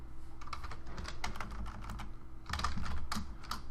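Steady, rapid clicking of keys on a computer keyboard during web coding, close and continuous over a low background hum, with no talking.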